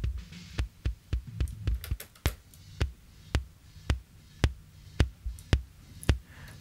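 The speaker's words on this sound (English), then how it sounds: "you're going to start hearing the beater." Kick drum in a studio, its beater passing through a compressor with a raised attack so the initial click slips through: a steady series of punchy, close thumps with sharp clicky fronts, heard alone.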